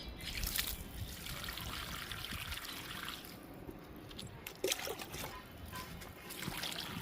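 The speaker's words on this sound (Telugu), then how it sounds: "ఇప్పుడు అలోవెరాకి వాటర్ ఇచ్చేద్దాము." Water is poured onto an aloe vera plant in a home garden, making a continuous soft trickle and splash that runs steadily, with a brief louder splash partway through.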